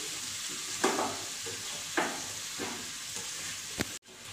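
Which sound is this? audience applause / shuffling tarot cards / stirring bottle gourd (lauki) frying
stirring bottle gourd (lauki) frying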